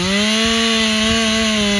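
A chainsaw runs at a loud, steady high-pitched whine while cutting through a dry log from a downed pear tree, close and continuous.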